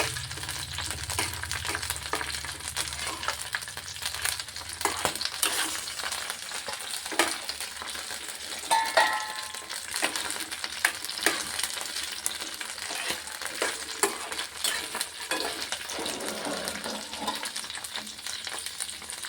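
Green chillies fry in a pan for an old-style tamarind chutney, with a continuous crackling sizzle and frequent stirring scrapes close up.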